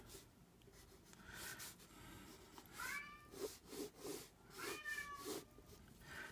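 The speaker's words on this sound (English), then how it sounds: "And please ignore my cat." A cat meows several times in a room over a faint constant background noise, the calls spaced a second or so apart, fairly close to the listener.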